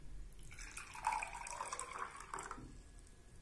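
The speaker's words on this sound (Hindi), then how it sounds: "ये आधा गिलास पानी मैं इसके अंदर डाल देती हूँ" Half a glass of hot water is poured into a container at home, a soft trickling splash lasting about two seconds, fairly quiet and close, with no talking.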